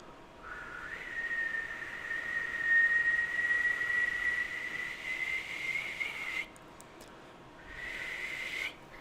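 A person tries to whistle, holding one long, thin, steady tone for several seconds, breaking off briefly, then starting a second shorter tone, close and fairly loud with no talking.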